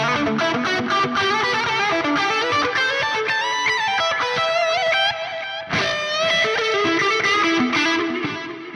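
Electric guitar lead patch through a Neural DSP SLO100 amp plugin, distorted and sustained with delay trails, a continuous melodic solo of bends and held notes, loud and up close, with no talking.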